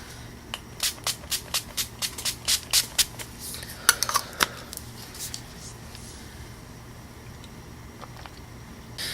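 Makeup setting spray misted onto a face in a quick series of about a dozen sharp, close hissing pumps in a fast rhythm, followed by a couple of scattered later sprays and quiet room tone, no speech.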